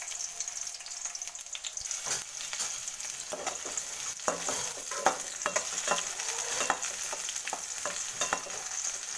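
Onion frying in oil in a pan, with a continuous bright sizzle and repeated scraping strokes of stirring, close up and without talk.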